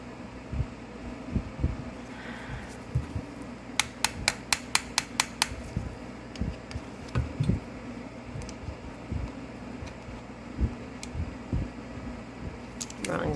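Parts being screwed back into a Singer 66 sewing machine, with a quick run of sharp metallic clicks midway and scattered knocks and taps over a low room hum. A person talks intermittently.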